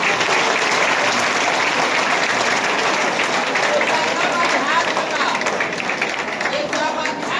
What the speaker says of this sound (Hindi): 77 जोरदार तालियां